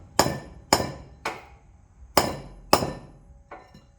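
Six sharp metallic hammer taps driving a key onto a flywheel shaft of a McCormick Deering No. 9 horse-drawn mower, spaced roughly half a second apart with a pause mid-sequence, the last one lighter; close and ringing briefly.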